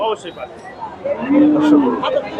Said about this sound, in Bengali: বড় বড় সাইজের গাভীগুলা পাবেন